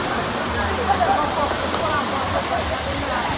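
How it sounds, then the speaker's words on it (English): Rushing water of Blue Hole River in Jamaica, a steady broadband roar that holds without a break through the whole stretch, with voices faintly mixed into the wash. "That Blue Hole River."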